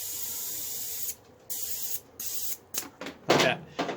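Compressed air from an air compressor blowing through a valve on a VW Squareback windshield washer setup, a loud sustained hiss followed by several short, choppy bursts.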